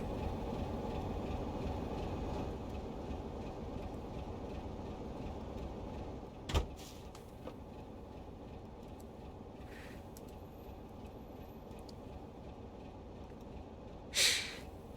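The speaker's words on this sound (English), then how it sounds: "we are shunting this locomotive through the main line" A locomotive shunting along the main line in Train Sim World on the Southeastern High Speed route, a faint steady low rumble with two brief clunks.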